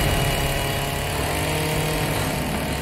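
Chainsaw engine from the Texas Chainsaw Massacre (2022) horror film, a steady, loud buzzing two-stroke drone that runs continuously without pause, dense and rough across the whole moment with no voices.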